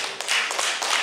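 Applause for a teacher at a literary club meeting in Fălticeni, a short burst of clapping from a small group with uneven, separate claps at close range and no voices.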